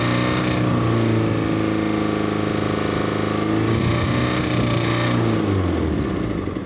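A Ford Fiesta 1.6 TDCi diesel with about 150,000 miles and a check engine light, idling roughly before the engine note rises and falls through a rev, steady and close with no talking.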